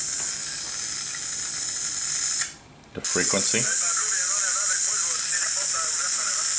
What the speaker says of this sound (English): There's a lot of hiss and noise.